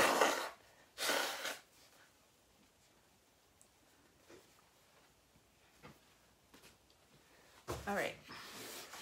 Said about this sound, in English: I'm gonna have to blow my nose, people.